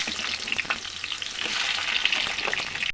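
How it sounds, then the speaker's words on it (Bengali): Pieces of pointed gourd rubbed with salt and a little turmeric go into hot mustard oil and sizzle loudly. The steady crackle lasts three seconds with no talk. "তেল গরম হয়ে গেছে, আমরা এবার ছেড়ে দিলাম পটলগুলো।"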